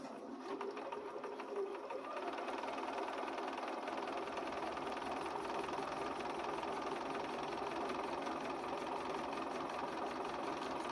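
A sewing machine runs steadily, top stitching close to the fabric edge of a Grinch Christmas pouch, giving a continuous, even mechanical whir and rapid needle rattle that stays close and at constant pace, with no one speaking.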